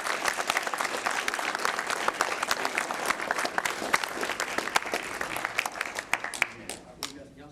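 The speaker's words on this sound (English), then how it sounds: "let's give them a big round of applause" Audience at a school board meeting applauding, a dense burst of clapping that fills the clip and tapers into scattered claps at the end.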